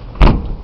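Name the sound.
frozen car door being forced open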